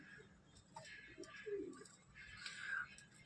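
Soft white pigeon coos rise and fall several times, quiet and close, with faint chirps and background noise between them.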